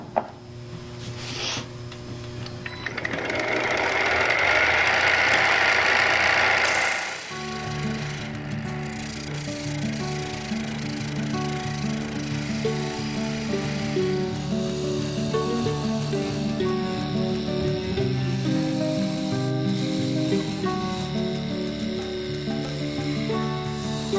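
A wood lathe turns a wooden mallet blank on a spur drive while a gouge cuts into the spinning wood, giving a steady hum with harsh, scraping cutting noise that swells, drops, then continues with a rough, ringing tone.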